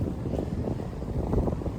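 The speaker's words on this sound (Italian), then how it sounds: "vento bello fresco" Fresh wind gusts across a Zanzibar beach at low tide, buffeting the microphone with a steady, close, low rumble and no voices.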